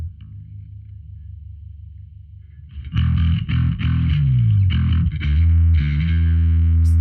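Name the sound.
guitar through Alpha Omega distortion pedal, alpha side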